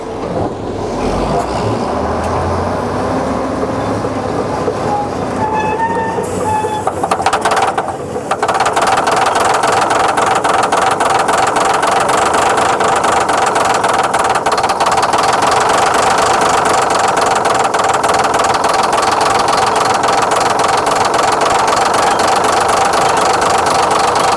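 A Caterpillar D8 bulldozer engine, not run in more than 15 years, cranks unevenly with a few sputters, then catches and settles into a loud, steady, rhythmic knocking idle that continues throughout.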